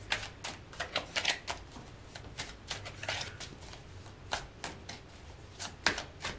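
Tarot cards being shuffled by hand in a series of quick, close riffling bursts, crisp and repeated with short pauses between them, no voices over it.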